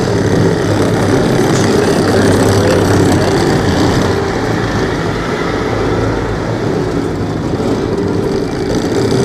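A 2020 Bobcat T66 tracked loader with its engine running, a loud, steady close-up diesel drone and rumble that holds for the whole stretch with no talking.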